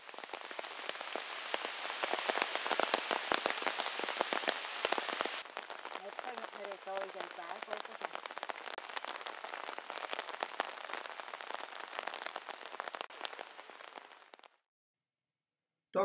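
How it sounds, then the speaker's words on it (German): Steady summer rain pours down at the Ballenberg open-air museum near Brienz, Switzerland, in a dense, continuous patter of drops, loud and close throughout, then cuts off abruptly near the end. "Es regnet."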